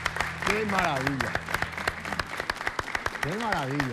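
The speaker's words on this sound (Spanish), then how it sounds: "Aplausos, Ceseo." Applause from a small audience breaks out right after a sung ballad, steady clapping running under a voice talking over it.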